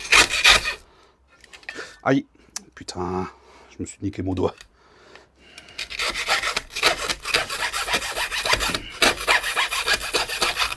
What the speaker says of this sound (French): à la scie à métaux.